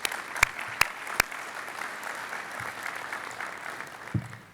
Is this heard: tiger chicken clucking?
no